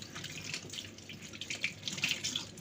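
Tap water running over a fish being washed in a sink, a soft continuous splashing stream with small spattering fluctuations, fairly quiet and close, with no voices.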